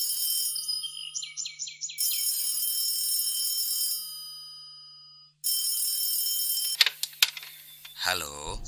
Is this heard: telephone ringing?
yes